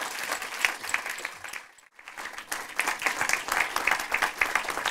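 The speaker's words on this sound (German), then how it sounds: "Also bitte großen Applaus an den Tetzel und Film ab" An audience at a German film event applauds director Aylin Tezel, dense clapping from many hands that dips briefly to near silence before swelling again into sustained applause.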